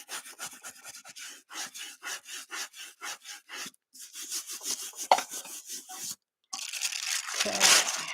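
Burnishing by hand with repeated rhythmic rubbing strokes, close and fairly loud, a quick series of short scraping passes followed by a pause and a few longer, rougher rubs.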